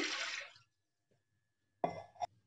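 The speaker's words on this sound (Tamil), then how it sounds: "குக்கரில் கொஞ்சமாக தண்ணி ஊற்றிட்டு" A short, close rush of water is poured into a pressure cooker, a brief splashing hiss that fades into silence, followed by a couple of small knocks.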